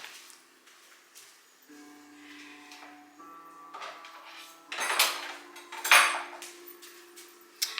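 Someone rummages through a kitchen drawer for a spoon, with quiet shuffling building to a few sharp metallic clatters of cutlery near the end, close by with a faint hum beneath.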